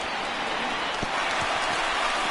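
Crowd noise in a PS4 baseball video game, a steady broadband roar of the stadium audience with a few soft thumps, moderately loud and continuous.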